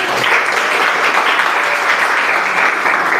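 Children in a classroom applaud together after a religious studies presentation, a loud, dense, continuous burst of clapping that stays strong throughout, with hardly any voices.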